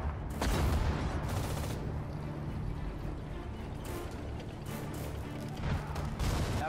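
Battle gunfire rattles in the video game Sudden Strike 4. Repeated bursts and sharp shots sound at mid-distance over a rumbling, mechanical background.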